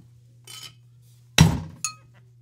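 Ice clatters into a cocktail shaker while a cocktail is being made: a light rattle first, then a loud, close clinking crash and a shorter clink right after, with no talking.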